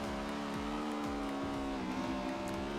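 A Honda Civic Type R drifts in the video game Forza Horizon 2, its engine held at high revs as a steady buzzing whine with faint tire scrubbing, fairly quiet and without speech.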